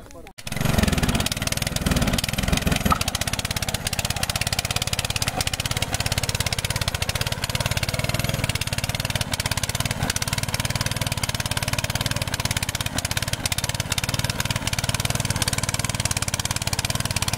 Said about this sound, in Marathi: आता ट्रॅक्टरने चिखल करेल जितू लावणी लावण्यासाठी.